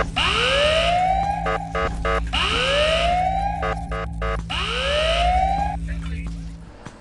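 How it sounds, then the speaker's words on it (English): Alarm siren in the Ice Scream 8 video game: a rising electronic wail that repeats three times in a steady cycle, interleaved with rapid beeping pulses, loud and continuous over a low hum. "Sound the alarm."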